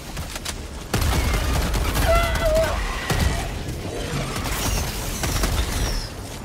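Gunfire in the Helldivers 2 video game: sharp bursts and blasts crack over a dense battle din, with players talking throughout.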